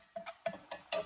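Browning ground beef with spices for picadillo is stirred and chopped in a pan, four sharp scraping strokes with faint sizzling between them.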